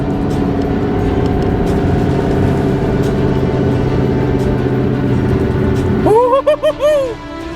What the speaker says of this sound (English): Alright, we are full throttle right now.